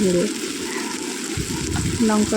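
Chili and turmeric powder fry in oil for a jackfruit and shrimp curry, giving a steady, close sizzle; a voice speaks briefly at the start and end.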